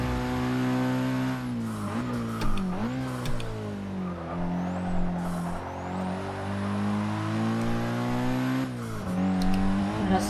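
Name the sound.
race car engine while lapping, Forza Motorsport 6 video game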